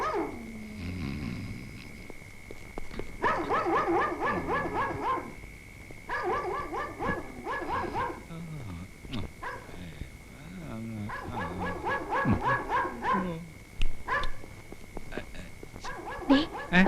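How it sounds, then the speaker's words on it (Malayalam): A dog barks repeatedly at night in a Kerala household setting, in bursts of loud, close barks with short pauses between them, while people talk over and between the barking. "പട്ടി വല്ലാതെ കുരയ്ക്കുന്നു"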